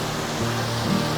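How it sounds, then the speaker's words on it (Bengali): River water and a small waterfall flowing at a riverside camp in Kalimpong, a steady loud rushing wash with no pauses. "চারপাশ থেকে শুধু নদীর জলের আওয়াজ আসতেছে। এই যে এখানে একটা ছোট ঝর্ণা আছে,"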